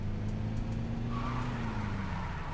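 A car in the video game T.A.B.G. gives a steady, low engine drone with a faint rising whine, running continuously and fairly close throughout.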